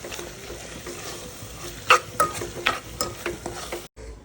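Tomato, onion and curry leaves frying for sambar, with a steady quiet sizzle and a string of sharp spoon taps and scrapes against the pan in the second half, then a sudden cut to silence.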